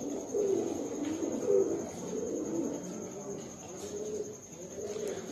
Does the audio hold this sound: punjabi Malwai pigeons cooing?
yes